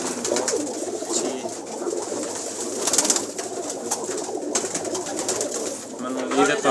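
Pigeons from a fancy baazi pigeon collection coo close by in soft, rolling calls, while someone talks continuously over them.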